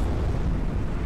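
A starship blowing up in the Star Trek Bridge Crew video game, a loud, dense, continuous low rumbling roar filling the whole moment without any voices.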